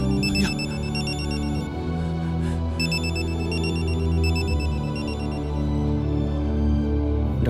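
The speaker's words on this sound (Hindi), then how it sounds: "ये डॉक्टर साहब फोन क्यों नहीं उठा रहे?" A phone rings on and on in steady repeating bursts over a low droning hum, with no one picking up and no voices.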